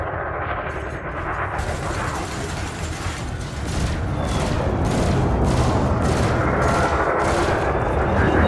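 In Elite Dangerous, ship multi-cannons fire at a drone with loud, continuous rapid fire that grows heavier partway through and settles into a pulsing rhythm of bursts.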